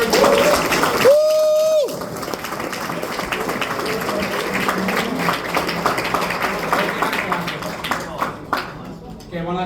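After a brief sung or tonal note, a crowd claps and cheers at a conference, the applause continuing at moderate level with some voices mixed in before fading.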